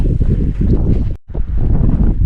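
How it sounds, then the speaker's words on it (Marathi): Strong sea wind buffets the microphone on a deep-sea mackerel fishing trip, a loud, low rumbling roar that cuts out briefly midway and then resumes. "वारा असल्यामुळे शूट नाही करता"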